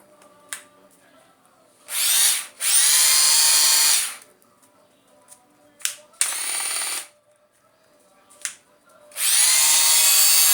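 A Cesar Cemak power tool switches on and runs in several bursts, a loud high whirring whine lasting a couple of seconds each time, separated by quiet gaps with small clicks and handling noises.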